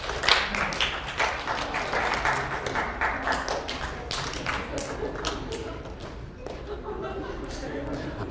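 A lecture hall audience claps in scattered, uneven bursts while viewing a picture-difference test, the crowd noise staying fairly steady and a little distant throughout.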